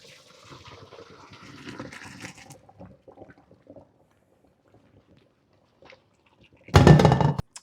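A loud burst of splashing, gushing hot water poured off cooked noodles near the end, following a stretch of low clattering kitchen sounds and near silence.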